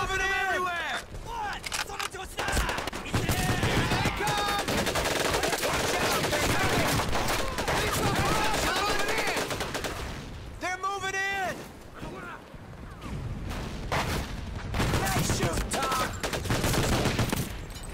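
Gunfire in the World War II shooter game Medal of Honor Pacific Assault during a last stand against a banzai charge: loud, dense bursts of rapid automatic fire and shots run almost continuously, with shouting voices over the battle.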